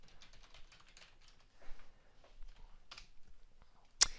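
Quiet, rapid keystrokes patter on a computer keyboard in uneven bursts, ending with one sharp, louder click near the end; no voices.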